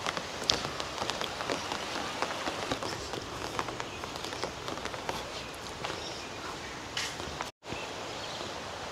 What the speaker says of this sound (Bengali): তো বৃষ্টি শুরু হয়ে গেল